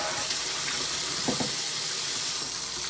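Water running from a Delta kitchen faucet sprayer that fails to disengage fully, a steady hiss of spray with a couple of brief splashing knocks midway.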